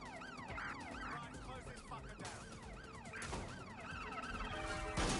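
A wailing police siren sweeps up and down in the London-set video game Watch Dogs Legion. It sits amid engine noise and crashes, with other siren tones layered in and a loud impact at the end.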